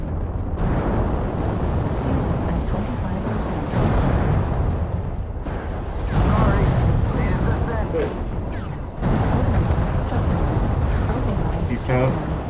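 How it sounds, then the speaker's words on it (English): Artillery strike explosions in a mech combat video game, a sustained heavy rumble of deep booms in several rolling waves with bursts of crackling debris, loud and continuous, with a voice speaking faintly underneath. "Artillery strike online."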